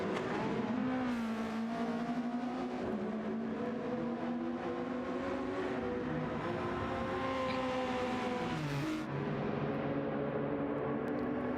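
GR3 race cars lapping Yas Marina in a sim racing multi-class endurance race: several high-revving engines whine and shift pitch together, with one car rising and falling in tone as it passes close.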